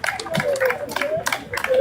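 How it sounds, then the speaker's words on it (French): An audience at a Togolese diaspora rally in France claps in encouragement, with scattered, moderately close applause mixed with a voice speaking over it. "Applaudissez pour lui donner du courage."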